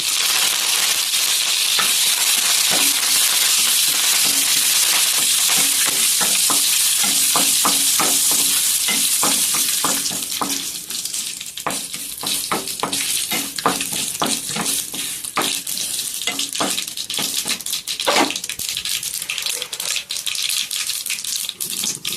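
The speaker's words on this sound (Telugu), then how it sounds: "ఓన్లీ తాలింపు ఒకటే వేసుకోవాలి" Tempering spices, including dried red chillies, sizzle and crackle hard in hot oil with rapid popping, then settle into quieter frying with intermittent stirring clicks.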